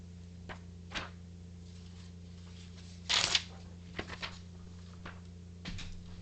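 A new sheet of paper being handled on a quiet flight-sim desk: a few soft rustles and one sharper crinkling snap, close and faint over a steady low electrical hum, with no talk.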